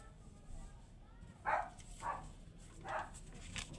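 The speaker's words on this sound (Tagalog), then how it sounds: "pasensya na sa mga aso maingay" A few dogs bark in the distance, several separate yaps spread over a few seconds, faint and under a quiet background hum.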